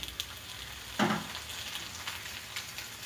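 Turmeric and ginger sauté in a pan for aloo bun, giving a steady low sizzle with a brief louder burst of stirring and frying near the start, close and alone.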